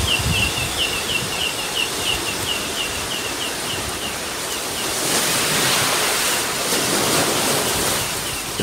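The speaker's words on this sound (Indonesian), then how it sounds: "Debur ombak laut terdengar bergemuruh ketika mobil yang membawa mereka berhenti tepat di ujung jalan buntu" Sea waves roaring at the end of a dead-end road, a broad continuous surf wash that swells louder in the second half, with a faint repeated bird call early on.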